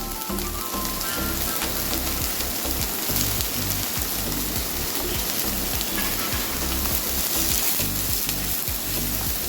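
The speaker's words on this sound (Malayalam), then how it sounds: "നമുക്കിനി അരച്ച് വെച്ച മസാല ഇട്ട് കൊടുക്കാം" Ground masala paste hitting hot oil with frying soya chunks, a loud, constant crackling sizzle that carries on evenly, with no talk over it.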